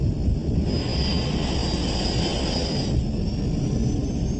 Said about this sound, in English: The plane takes off from Stansted Airport at 6:36 p.m.